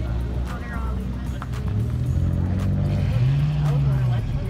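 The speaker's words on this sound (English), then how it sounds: "The Nissan pulling off." A Nissan car pulls away from a car meet, its engine note rising and falling as it revs off nearby, while people talk over the motor.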